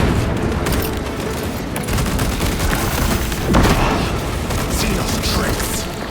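Grenade blast and sustained gunfire in Warhammer 40,000: Space Marine 2, a dense continuous wash of booming impacts and rattling shots with a heavier swell midway, loud and close, with voices mixed into the battle noise.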